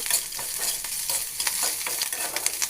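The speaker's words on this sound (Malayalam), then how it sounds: "നമ്മുടെ ഉള്ളി ഇവിടെ മൂത്ത് വന്നിട്ടുണ്ട് ഇനി നമുക്ക് അതിലേക്ക് മറ്റുള്ളതൊക്കെ ഇട്ട് കൊടുക്കാം ഒന്ന് നല്ലോണം ഒന്ന് മൂപ്പിച്ചെടുക്കാം" Onion frying in a pan while being stirred, a continuous close hiss with repeated scraping strokes from the spoon at a brisk rhythm, no voices.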